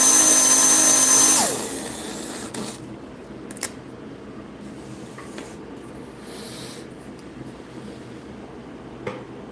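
Drivetrain of a Viper V3s spinning on a dyno, a loud steady mechanical whir for the first second and a half that then cuts off, leaving faint low hum with a few small ticks.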